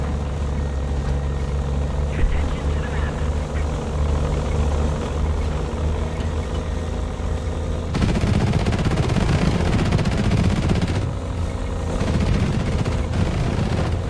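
Gunfire at drones in the War Thunder video game: a low, steady rumble of engines and distant fire, then from about eight seconds a dense, continuous burst of rapid machine-gun shots, loud and sustained, easing slightly near the end.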